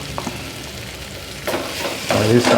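Green chillies and potatoes fry in a pan for sabudana khichdi with a close, steady sizzle that swells louder toward the end as stirring scrapes join in.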